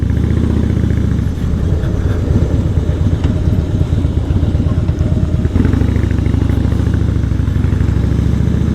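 A Harley Fatboy motorcycle engine while riding, a loud close rumbling throb with an uneven loping beat and mechanical clatter, holding steady with a slight shift partway.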